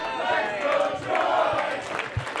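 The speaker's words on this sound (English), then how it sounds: "I think they're cheering the ref" Wrestling crowd cheering the referee at a match, a steady mass of voices roaring throughout with a few louder whoops and thumps near the end.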